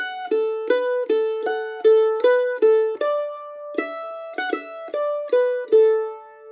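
A mandolin plays the first phrase of the Irish polka Egan's Polka, a quick, bouncy melody with each note sharply picked, steady dance rhythm, close and clear with no talking.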